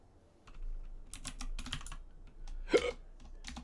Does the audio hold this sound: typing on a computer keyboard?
yes